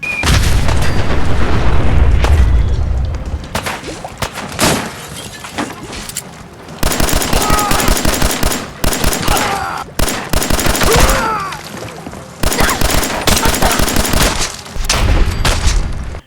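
Gunfire from a shootout with raiders in Fallout 4, loud automatic bursts and heavy booms with breaking glass, coming in dense volleys separated by brief lulls.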